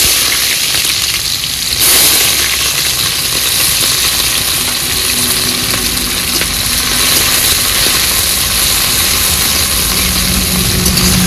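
Chopped onion dropped onto cumin seeds in hot oil, giving a steady, close sizzle and crackle that runs unbroken throughout, with a brief louder hiss of fresh spattering early on and no talking.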